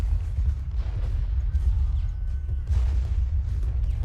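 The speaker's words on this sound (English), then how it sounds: "These cannons are really helping out." Cannon fire in the Civil War strategy game Ultimate General: Gettysburg, a continuous low rumble of distant artillery booms overlapping into a heavy battlefield roar with no clear gaps.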